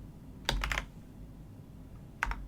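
Two short bursts of clicky typing on a computer keyboard at a command line, a few quick keystrokes each, separated by a quiet pause over faint room hum.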